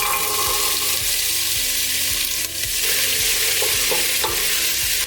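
Vegetables frying in oil in a pot for Danish meatball and dumpling soup: a loud, steady, close-up sizzle with soft rhythmic stirring thumps and no voices.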